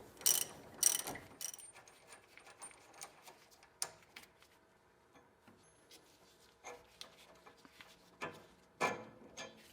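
Ratchet clicks from removing the lower sway bar bolt on a 1980-1996 Ford Bronco during a coil spring replacement, coming in short bursts of rapid ticking with quieter pauses between, close by and with no voices.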